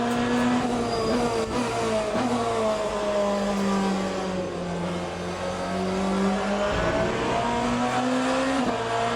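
A race car in the Le Mans Ultimate racing sim drones and whines as its engine pitch sweeps up and down through the gears, with tire noise underneath, continuous, close and loud.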